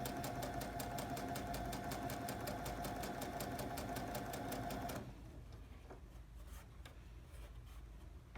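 A sewing machine runs a 2.5 mm straight stitch along a sleeve placket line with a fast, even mechanical whir and rapid needle ticks. It stops abruptly, and quiet fabric handling follows.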